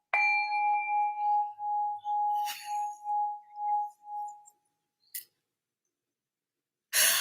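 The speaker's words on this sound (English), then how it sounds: "I'm gonna hit the bowl quick" A singing bowl is struck once, giving a sustained bright ring with clear overtones that slowly fades over about four seconds, followed by a couple of brief clinks and a short noisy burst at the end.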